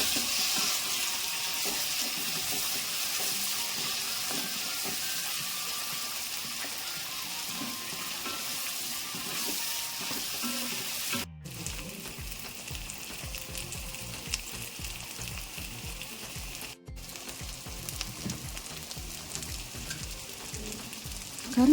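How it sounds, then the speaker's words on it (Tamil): Lesser yam (karunai kizhangu) pieces sautéing in hot oil for a spicy gravy, a steady close sizzle with stirring scrapes, two brief breaks partway through. "கிழங்கு நல்லா கொஞ்சம் நேரம் எண்ணெயில் நம்ம வதக்கிக்கலாம்"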